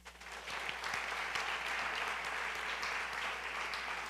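Church congregation applauding during a Spanish-language sermon, a steady wash of many hands clapping at moderate distance, sustained evenly across the whole stretch without talk.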